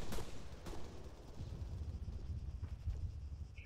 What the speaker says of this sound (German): Ich höre die ganze Zeit Schüsse,